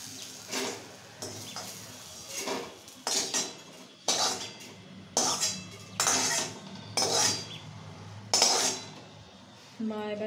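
A utensil clinks and scrapes against a pan in a series of about eight distinct metallic strikes with pauses between them as fried banana stem fritters in gram-flour batter are lifted from mustard oil.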